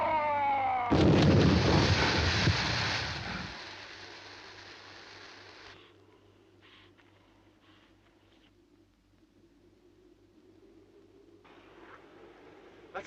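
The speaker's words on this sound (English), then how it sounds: "I'll try a gas grenade." A gas grenade fired in a 1956 science-fiction film, heard as a sudden loud blast with a hissing roar that lasts a few seconds and then falls to faint background sound.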